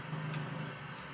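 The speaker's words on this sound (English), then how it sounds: "This 8 Series van is loud" Loud 8 Series van engine from BeamNG Drive in four-wheel drive on a dirt track, a steady low droning rumble holding even throughout, with no speech.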